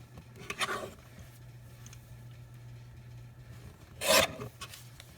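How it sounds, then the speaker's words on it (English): A paper trimmer cuts card stock for a handmade birthday card: two brief, quiet scraping strokes a few seconds apart in an otherwise hushed room. "now we're just going to use a trimmer to trim this down."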